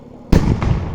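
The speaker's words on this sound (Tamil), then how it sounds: "இந்த கீழே இருக்க எல்லாமே மேலே போய் வெடிக்கிற வெடி தான்." Festival fireworks burst high overhead in a single loud, sudden boom, followed by a rumbling echo and a second fainter report as the sound decays.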